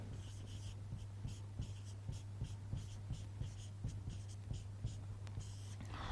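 Chalk or marker scratching across a board in quick, rhythmic strokes as a word is written during a classroom lesson, faint and close with no talking.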